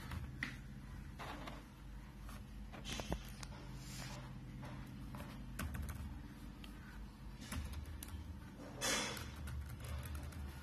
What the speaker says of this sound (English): And this is my new keyboard. Let me test it.